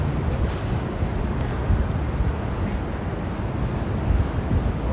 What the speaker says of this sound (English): it is a bit too windy